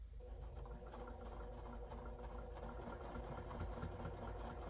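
A sewing machine stitches quilt block seams slowly and steadily, a continuous close mechanical hum with a fast regular needle rhythm that runs without a break and carries no talk.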